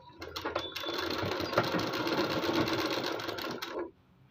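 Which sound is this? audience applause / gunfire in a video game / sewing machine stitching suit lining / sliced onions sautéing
sewing machine stitching suit lining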